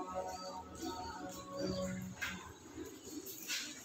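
A racing pigeon coos softly at a loft, its low murmuring calls repeating over steady background noise, with faint chirping around it and no clear talk.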